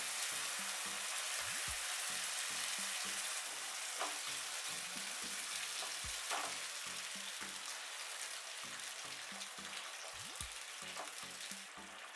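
Chicken and tomato paste fry in a pan for red sauce pasta, giving a steady close sizzle with soft thuds and scrapes of stirring throughout.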